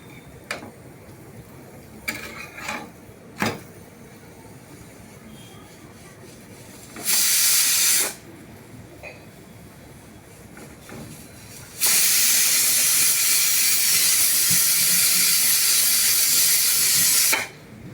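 Cheese paratha roasting in a pan over a low gas flame, giving a short hissing sizzle and then a longer, steady sizzle lasting several seconds, with a few faint clicks and taps in between and no talking.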